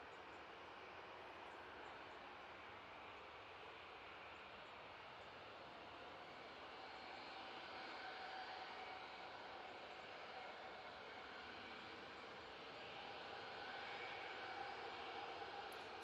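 A Ryanair airliner on approach to land at Manchester Airport gives a distant, faint, steady jet-engine roar that holds evenly and swells a little toward the end.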